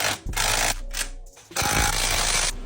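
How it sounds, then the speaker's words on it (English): A power drill whirs in loud bursts, stopping and restarting as it drives bolts into a bumper plate on a Can-Am X3 frame, with a brief pause between the runs. "go ahead and drill these bolts right there"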